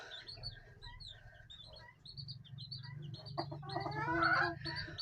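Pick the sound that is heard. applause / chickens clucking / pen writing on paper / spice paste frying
chickens clucking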